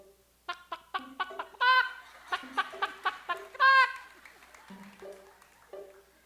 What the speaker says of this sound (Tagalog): Manok na nangingitlog.